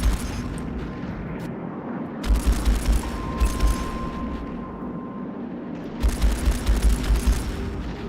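Mech weapons fire in the space combat game Strike Suit Zero, with rapid bursts of gunfire and explosive booms in several clusters over a steady rumbling background, and no talking.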